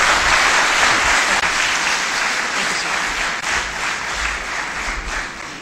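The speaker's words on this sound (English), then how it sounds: "Can we please give the panel a big round of applause?" An audience at a CFO conference panel discussion gives a big round of applause: steady, dense clapping from a roomful of people, close and loud, fading gradually toward the end.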